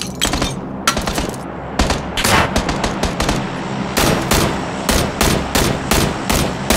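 Repeated loud bursts of automatic rifle fire in PLAYERUNKNOWN'S BATTLEGROUNDS, sharp, closely spaced shots in uneven volleys with brief gaps, continuing throughout.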